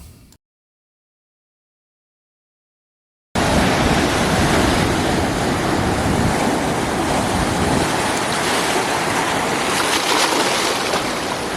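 Ocean waves surge loudly and steadily at the Kiama blowholes on the New South Wales coast, a broad continuous roar of surf and spray that follows a brief silent gap.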